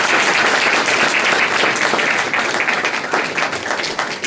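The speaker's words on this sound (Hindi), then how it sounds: "ताली बजाएंगे।" Dense, loud audience applause filling the whole stretch at a religious gathering, continuous clapping from a crowd that eases off slightly toward the end.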